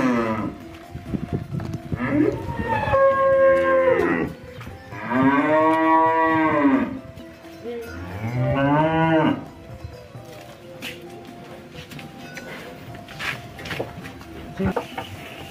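Cattle at a Lampung Tengah cattle contest give three long, loud moos in a row, each rising and falling, with quieter farm background between them.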